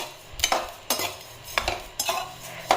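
Coriander seeds dry-roasting in a pan, stirred with a utensil that scrapes and clinks against the metal in several distinct strokes over a faint, dry crackle.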